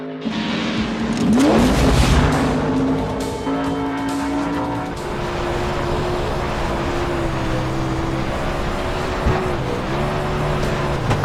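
A dirt oval race car in the game iRacing accelerates hard, its engine revving loudly and rising in pitch with brief tire squeal, then holding a steady high drone throughout; no talk.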